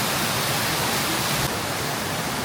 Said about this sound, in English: this waterfall is making too much noise